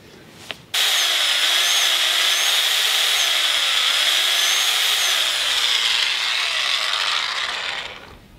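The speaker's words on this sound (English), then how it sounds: "This is a pilot hole with one of my regular drill bits" A power drill with a regular drill bit bores a pilot hole while building a boat gate: a single sustained high whine of about seven seconds that starts abruptly after a short tap, loud and close, wavering slightly in pitch before winding down.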